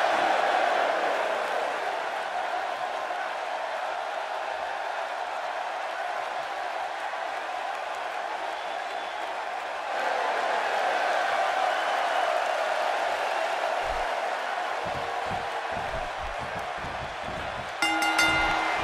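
An arena crowd in the wrestling video game WWE 2K16 keeps up a steady low murmur for the whole stretch, swelling midway, then some thuds and a sharp electronic tone near the end.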